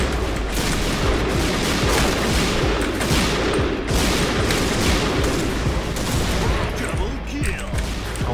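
Constant rapid automatic gunfire in the shooter game Point Blank, dense overlapping bursts and occasional booms running nonstop, with someone talking over the shooting.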